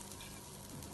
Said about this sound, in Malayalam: ഇനി വീണ്ടും തീ കത്തിച്ച് ഇതേ ഉരുളിയിലേക്ക് കുറച്ച് ഫ്രഷ് തേങ്ങ ചിരകിയതിട്ട് വറുത്തെടുക്കാം.